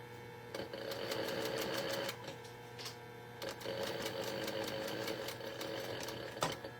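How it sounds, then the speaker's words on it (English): A sewing machine stitches a crossbody bag in steady bursts, its rapid needle clatter running for a couple of seconds at a time with short pauses between runs, fairly close and loud. "I think I sewed a little too far over here"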